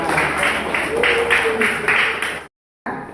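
Primary school children in an audience give a round of steady applause, a dense patter of many hands, with voices mixed in before it cuts off abruptly.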